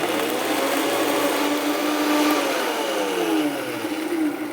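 Blender pureeing roasted habanero salsa, a loud steady motor whir with whining tones that shift in pitch as the contents churn, close and continuous for several seconds without talking.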